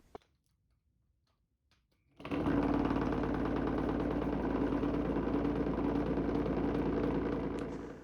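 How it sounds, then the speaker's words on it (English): A vibration motor shakes a platform covered in cornmeal powder. It starts suddenly after near silence and keeps up a loud, steady, buzzing hum to the end. "I've got a vibration motor to shake the platform, and I'm using cornmeal for the powder."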